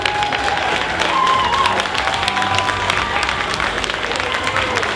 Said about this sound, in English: A big applause for her, please.